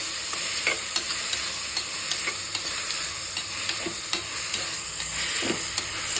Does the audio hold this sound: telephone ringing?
no